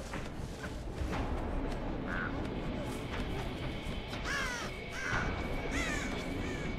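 Several crows caw in short harsh bursts in the video game Dead by Daylight, with a few calls standing out over a steady ambient game background and quieter ones further back.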